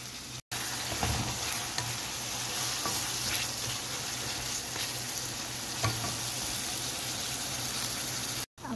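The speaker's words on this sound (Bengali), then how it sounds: "এখন পেঁয়াজটাকে খুব ভালো করে আগে ভেজে নেব" Onions frying in oil in a kadai make a dense, even sizzle with light stirring scrapes throughout, loud and close, briefly cutting out at the start and end, with no one talking.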